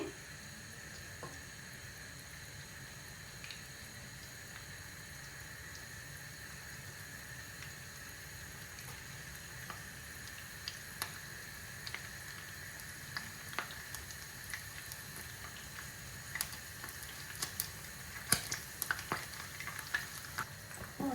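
A large onion fries in a pan for chicken keema pasta, giving a low, steady sizzle broken by scattered stirring clicks and scrapes that grow busier toward the end.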